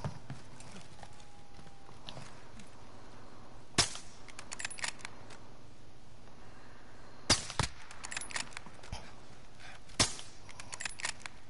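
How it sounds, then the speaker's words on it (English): Distant gunfire in Call of Duty: Modern Warfare, with three sharp isolated shots and a few quicker cracks spread over a low, steady game ambience, no talking. "there's someone firing in green."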